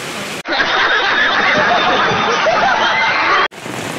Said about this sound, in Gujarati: વરસાદ ભાઈ ફૂલ એટલે ફૂલ ચાલુ હોય અત્યારે